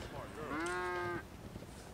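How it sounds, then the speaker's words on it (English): A single drawn-out cow moo from a Grand Theft Auto PC game, rising then holding steady for under a second, fairly close and alone with no talk over it. "Hey, pasture cow!"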